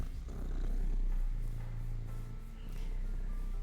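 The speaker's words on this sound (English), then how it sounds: "He also purrs very loud." A loud, steady rumbling purr right up close, a low continuous vibration with a soft rhythmic pulse and faint background noise.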